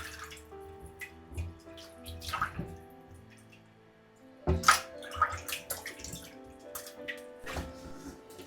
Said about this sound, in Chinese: 我们用手把鸡腿搓洗一下，用淡盐水清洗浸泡